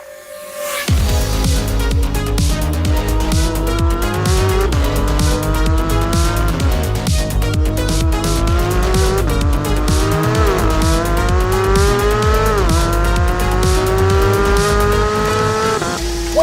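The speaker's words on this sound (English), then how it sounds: "'22 Porsche 911 GT3 with launch control. Okay, we're in the wet." A 2022 Porsche 911 GT3 with launch control on a wet track, its engine note loud and close and climbing through repeated gear changes, with steady tire noise running underneath for the whole run.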